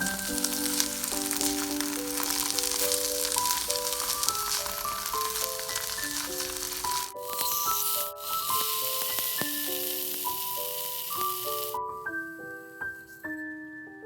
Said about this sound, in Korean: 팬에 바로 두부를 넣어 지져줍니다.